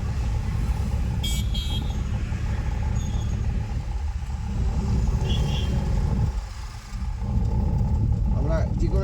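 A car engine rumbles low and steady on an empty road during a driving lesson, rising gently as it accelerates slowly, with people talking over it and a brief high chirp early on.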